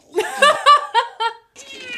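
A cat Muppet in The Muppet Christmas Carol, a voice imitating a cat, gives a string of four or five loud, close, whiny meows, followed by a softer drawn-out mew.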